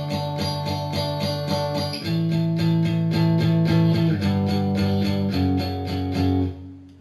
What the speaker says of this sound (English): it's going to start off with the 2-4 power chord.